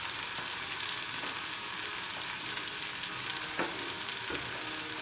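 Turmeric, red chilli powder and salt sizzle in hot oil as they are stirred for a green bean bhaji, a steady close frying hiss with light scraping of the spoon.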